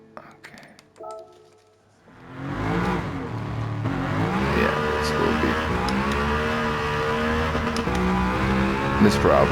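BMW Z8 in the racing game Gran Turismo 7, its engine revving up after a short quiet start and then sustaining a loud, rising and falling high-rev wail with shifting gears, close and continuous.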